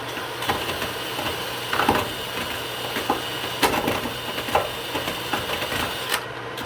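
A drill grinding into metal on a Ford Ranger leaf spring hanger, with uneven catching and juddering bursts as the bit snags, steady mechanical noise throughout.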